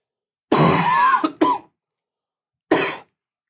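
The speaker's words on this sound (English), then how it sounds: "It's like I haven't coughed like this whole week" An adult coughing nearby in a quiet room: a harsh throat-clearing cough burst, a quick second hack, then after a pause one more short cough.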